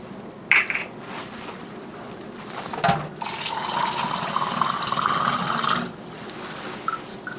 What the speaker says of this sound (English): we're going to dump baking soda into this glass, and then we're going to run water in it.